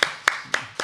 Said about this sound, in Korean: 우리 한번 축하의 박수 한번 드릴까요?